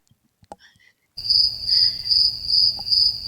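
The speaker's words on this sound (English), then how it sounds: "Crickets. Crickets." Crickets chirp in a steady, pulsing high trill that starts abruptly after a brief near-silent opening with a few faint clicks, then continues loud and unbroken to the end.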